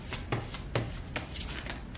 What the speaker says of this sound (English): I'm shuffling the cards now for you